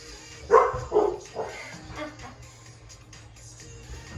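A dog in a house gives a few short barks and yips in quick succession, fairly faint, with some indistinct voice nearby.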